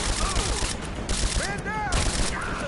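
Rapid bursts of gunfire in Rise of the Tomb Raider, sharp repeated volleys crackling loudly over a dense combat din with ricochet whines, brief and close.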